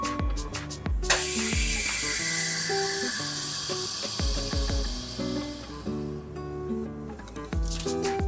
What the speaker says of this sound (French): à l'aide de ma machine sous vide, je fais une soudure maximale.